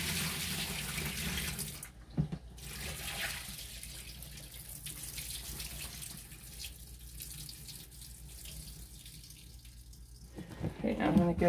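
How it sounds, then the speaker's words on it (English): Soapy water is poured out into a sink in a steady, continuous splashing stream close by, with talk over it and a brief clatter near the end. "Now I'm just pouring this soapy water out."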